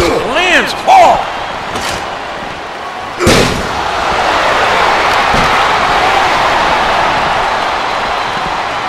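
A hard punch landing in the WWE Legends of WrestleMania wrestling video game, a couple of heavy thuds and slams early on, then a sustained crowd roar that fills the rest.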